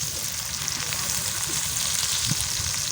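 Potatoes and banana flower frying in spiced oil in a pan, a continuous close sizzle and crackle with a couple of faint stirring knocks, no talking.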